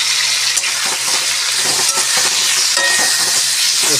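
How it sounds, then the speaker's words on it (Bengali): Chopped star fruit, cherries and karamcha fry in a pan with panch phoron, giving a loud, steady sizzle and hiss while a utensil scrapes and stirs in repeated strokes close by. "একটু নেড়ে চেড়ে দিই"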